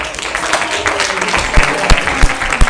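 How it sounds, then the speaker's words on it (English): Student government senate members applaud at the close of a meeting, a dense, steady wash of clapping with a few sharper claps standing out near the end. "So let's give ourselves a round of applause."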